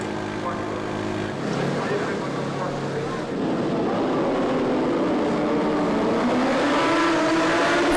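Superbike motorcycles at the race start at Magny-Cours, engines droning steadily and swelling louder as the field pulls away, a dense roar building under crowd and commentary noise throughout.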